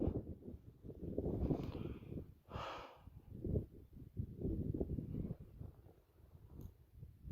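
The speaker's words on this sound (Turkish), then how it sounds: "Zirvede her zaman rüzgar, yaz kış fark etmez." Gusty wind on a mountain summit buffets the microphone in low rumbling bursts, rising and falling irregularly, with a brief breathy hiss in the middle.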